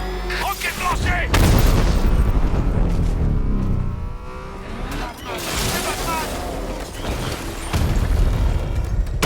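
A Batman: Arkham Knight battle erupts as a rocket is launched, followed by loud booms and explosions amid roaring vehicle engines and gunfire, with game voices shouting in French.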